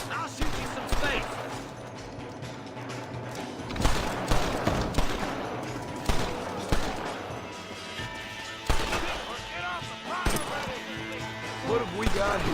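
Gunfire in the Red Dead Redemption western video game: sharp shots crack out at irregular intervals amid a busy battle mix, moderately loud, with spoken dialogue running between and under the shots.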